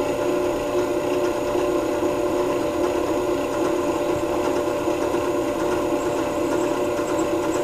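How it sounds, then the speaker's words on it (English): A 1/4 inch carbide-tip bit drills at about 520 RPM, making a loud, continuous grinding drone with a steady pitched whine that never lets up. "This time I went right with the 1/4 inch carbide tip bit, and we're going to see if it cuts through."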